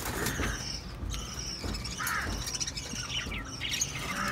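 Ringneck parakeets being taken out of a clay nest pot give harsh, repeated squawks and screeches close by, mixed with handling noise and rustling.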